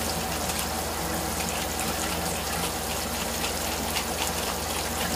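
Water running steadily from a kitchen tap, a continuous loud gushing hiss that fills the whole stretch without breaks or voices.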